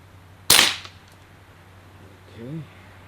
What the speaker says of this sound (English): we'll fire 3 rounds and see where they hit